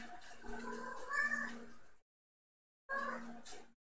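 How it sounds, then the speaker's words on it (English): A house cat meows twice, two short voiced calls close by with a clear gap of silence between them. "you hear the cats coming?"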